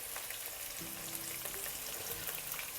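Pork pieces deep frying in smoking hot oil give a steady, dense crackling sizzle throughout, with a low tonal hum entering partway through beneath the frying.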